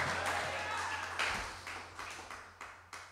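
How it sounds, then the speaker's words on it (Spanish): A church congregation applauds together, a steady wash of many hands clapping that thins into a few scattered, separate claps as it fades toward the end. "Dale un aplauso al Señor, a su nombre."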